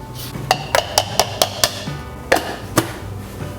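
Fennel seed, whole black peppercorns and spices are pounded together, likely in a mortar, with about eight sharp knocking strikes in an uneven rhythm, close and moderately loud.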